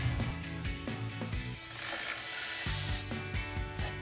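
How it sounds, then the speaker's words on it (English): Close-up clicking of a regular hand ratchet turning a brake caliper bolt on a 2010–2015 Camaro SS, with rhythmic bursts of ratcheting and a brief pause midway. "Obviously you can do this with a regular ratchet."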